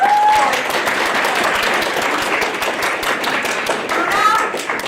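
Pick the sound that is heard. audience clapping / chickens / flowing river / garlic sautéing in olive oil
audience clapping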